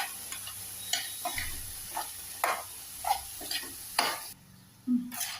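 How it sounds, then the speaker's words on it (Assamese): A spoon stirs fish curry with sponge gourd in a pan, producing repeated scraping clatters about once a second over a low sizzle, ending in a brief pause and one last scrape. "অকণমান এতিয়া লৰাই দিব ধুনীয়াকৈ"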